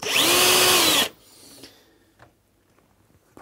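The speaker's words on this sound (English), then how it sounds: "So I drill in here" A power drill bores screw holes into the frame of a Cooke & Lewis 500 three-drawer unit, one loud steady whir lasting about a second that then cuts off, leaving faint handling clicks and quiet room noise.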